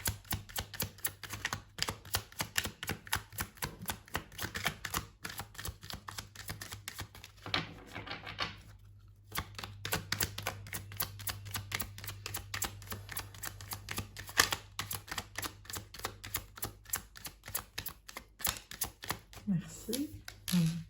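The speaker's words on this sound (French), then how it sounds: "je vais tirer les cartes avant d'aller plus loin" Tarot cards shuffled and laid out in a brisk run of soft riffling taps and slaps, close and fairly quiet, with a brief lull partway through.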